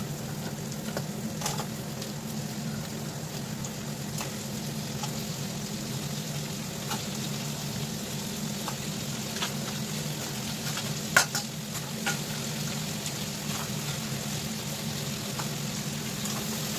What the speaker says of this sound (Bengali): পেঁয়াজের সাথে কাঁকড়াগুলো ভেজে নেবো।